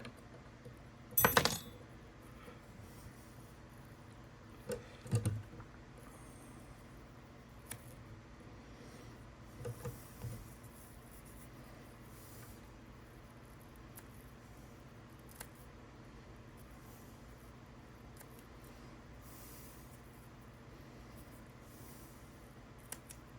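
Scissors snip through deer hair while trimming the back of a bumblebee fly on a tying vise, giving a few sharp, close, isolated clips spaced seconds apart in an otherwise quiet room.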